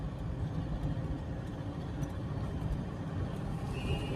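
An oncoming car on a foggy road rushes past as a steady broadband road and engine roar, continuous and fairly close, with no talking.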